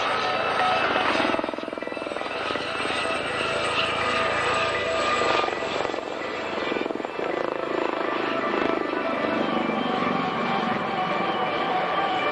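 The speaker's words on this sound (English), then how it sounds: "Helicopter display team, the Blue Eagles." Blue Eagles display team helicopters at a 1995 airshow thunder past in a steady, loud rotor drone that fills the scene, with a faint voice underneath.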